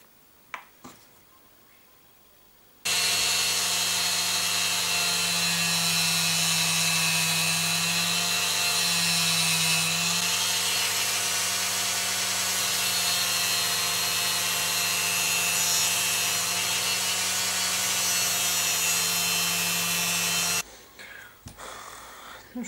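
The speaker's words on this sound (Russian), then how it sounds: "Теперь я нанесу такую полироль на войлочный круг." A felt polishing wheel spins steadily while polish compound is pressed against it, as chisels from a Soviet-era set are honed: a loud, continuous motor whine runs for about eighteen seconds, then stops abruptly.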